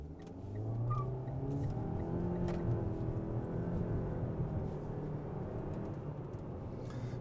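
Mitsubishi Eclipse Cross compact SUV with a 1.5-litre turbo engine accelerating from a stop in sport mode, a steady engine drone climbing gradually in pitch, heard from the cabin at moderate level without speech.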